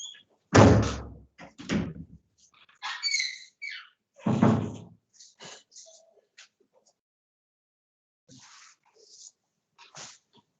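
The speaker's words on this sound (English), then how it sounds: "close the door." A door in an indoor room closes with a couple of solid thumps and slams, followed by quieter clicks and rustles in a mostly silent space.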